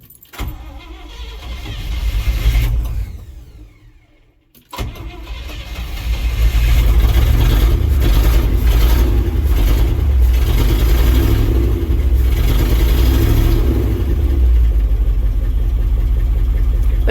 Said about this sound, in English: start the engine, probably let it warm up